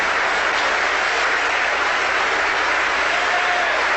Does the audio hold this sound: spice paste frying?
no